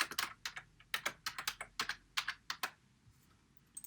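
Someone types on a computer keyboard while setting up a restaurant's point-of-sale system. Close, crisp keystrokes come in quick irregular bursts with short pauses between them, and no talking.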